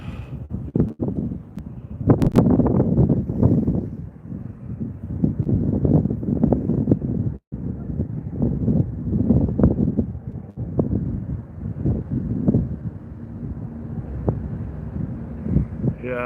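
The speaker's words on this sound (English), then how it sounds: "it's getting way windier out here" Wind buffets the microphone on an evening electric scooter ride outdoors in Las Vegas, making loud rumbling gusts that rise and fall, with a brief dropout partway through.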